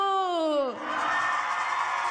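A crowd at a political youth rally with Lula shouts and cheers, opening with one voice's falling whoop and then a loud sustained roar of many people.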